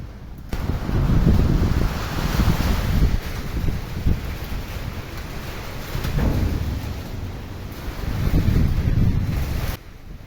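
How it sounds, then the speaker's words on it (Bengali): Strong wind gusts roar and buffet on a stormy Pohela Boishakh day, a loud continuous rumble swelling and easing in waves for about ten seconds, with no talking. "এই যে দেখেন প্রচণ্ড বাতাস"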